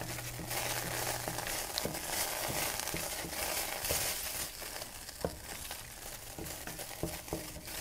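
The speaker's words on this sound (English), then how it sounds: "So this is the dry roasting part." Spaghetti squash seeds dry roast in a pan, a dense continuous crackling sizzle with scattered small pops and ticks as the seeds are moved about, fairly close and steady, with no talking.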